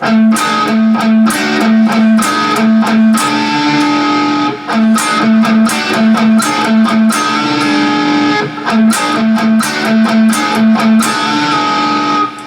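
An electric guitar plays a chugging riff of short, choppy muted notes mixed with ringing tones, washed in heavy reverb and echo.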